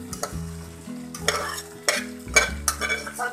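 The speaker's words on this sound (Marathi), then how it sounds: "ह्याच्यामध्ये भात मिक्स करून घेणार आहोत।" A spatula stirs cooked rice into shahi veg pulao in a large kadhai over high heat, scraping and turning steadily with sizzling and frying beneath each pass.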